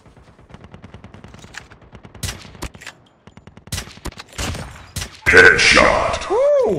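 Shots from a Locust sniper rifle in Call of Duty Mobile battle royale ring out as sharp cracks among other game sounds, following earlier rapid, fainter pops and ending with louder mixed effects.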